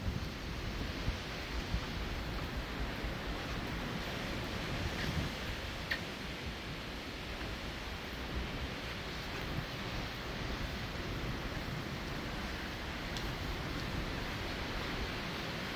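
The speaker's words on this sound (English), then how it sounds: "you can hear the waves" Ocean waves and wind in a fierce North Atlantic storm, heard aboard the Queen Mary 2 ocean liner: a steady, dense roar of surf and gusting air that continues throughout, with no voices.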